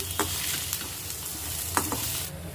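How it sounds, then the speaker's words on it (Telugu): Okra pieces fry in oil, giving a steady close sizzle with a few sharp stirring clicks and scrapes from a spoon in the pan over a short stretch. "ఇదే ఆయిల్లోకి బెండకాయ ముక్కలు వేసి మగ్గించుకోవాలండి"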